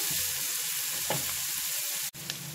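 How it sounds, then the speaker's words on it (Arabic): Chopped onion sautéing in hot oil in a pan, a steady close sizzle and crackle that runs throughout, with a short stirring scrape partway and a brief clatter near the end. "معايا هنا بصلايه متقطعه هشوحها كده"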